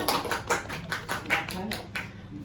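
Classmates clapping at a virtual school art exhibition, a scattered run of claps at moderate level mixed with background talk.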